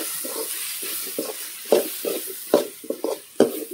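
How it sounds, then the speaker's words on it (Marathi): A masala mixture for stuffed brinjal and potato is stirred in a pan over a wood-fired stove, with uneven scraping strokes and a soft sizzle underneath, close by and with no talk. "आता हे सगळं मिक्स करून घ्यायचं."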